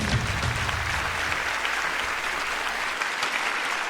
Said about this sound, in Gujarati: તાળીઓના ગડગડાટથી અક્ષર સ્કૂલ પરિવારને આપણે વધાવી દઈશું